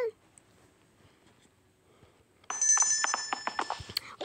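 A telephone bell rings loudly in short repeated bursts after a quiet stretch with faint background sounds, and no talk comes over it.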